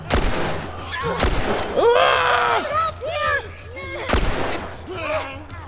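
Gunfire in The Last of Us Remastered: two sharp, loud shots ring out a few seconds apart, with someone talking excitedly around and between them.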